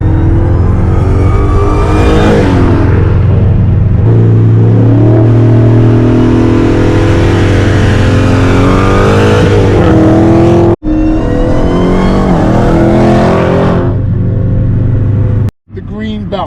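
A supercharged Dodge Challenger SRT Hellcat Redeye engine revs loudly and up close, rising and falling in long sweeps, with two abrupt cutoffs near the end and some talk mixed under it.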